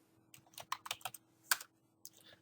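Quick bursts of typing on a computer keyboard, about a dozen close, crisp key clicks in an uneven rhythm, with no voices.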